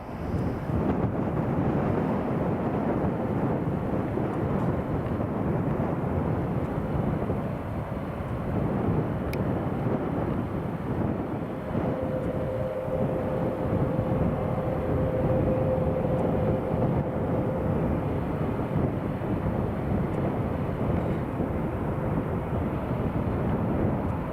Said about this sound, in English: So KLM Embraer 190, 16 years old.